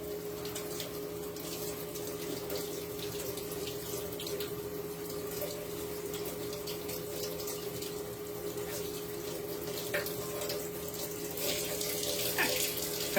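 Kitchen tap runs steadily into a sink during washing up after cooking, a constant close hiss of flowing water with a faint hum beneath and occasional light splashes, no speech.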